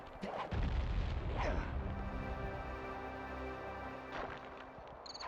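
Rockets burst in the Sly Cooper video game, with a few deep booming blasts followed by a sustained rumbling, ringing tail.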